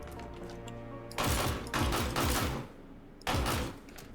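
Bursts of rapid automatic fire from the Pulverizer LMG light machine gun in a combat video game, loud and close, in several strings of shots with brief pauses and mechanical clatter between them.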